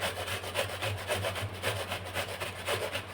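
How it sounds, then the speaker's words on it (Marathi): Raw green mango is rubbed against a fine kitchen grater in quick, rhythmic rasping strokes, close and fairly soft, continuing steadily with no voices. "त्यामुळे बारीक किसणीने किसायची ही कैरी"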